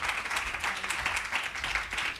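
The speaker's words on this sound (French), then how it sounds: "vous pouvez les applaudir" Audience applause at a round table event on creative communities, a steady wash of many hands clapping throughout the short stretch with no talk.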